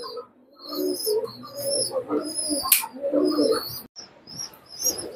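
Teddy pigeons coo in low, repeated, close calls, mixed with higher chirps from other birds and light background noise.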